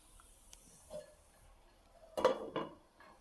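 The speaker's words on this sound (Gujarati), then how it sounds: "તો હવે ઢાંકણ ઢાંકી દઈશું" A metal lid set down onto a pan of cooking tendli (ivy gourd) sabzi, heard as a short clatter of two or three close clinks after a few faint kitchen ticks.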